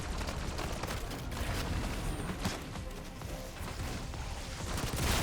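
Rapid weapon gunfire from Black Ops 6 Zombies, dense bursts of shots and crashing impacts forming a continuous chaotic barrage at moderate loudness.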